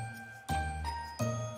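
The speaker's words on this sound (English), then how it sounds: "A popular Christmas song featuring the sound of jingling bells." Bright jingling bells ring out in a Christmas song, a few shimmering strikes with sustained tones, close and clear with no talking.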